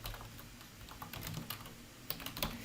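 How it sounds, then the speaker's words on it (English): Quiet computer keyboard typing while an email address is entered, a run of soft irregular key clicks growing slightly busier and sharper toward the end, close and alone. "you can also choose to type in the email itself."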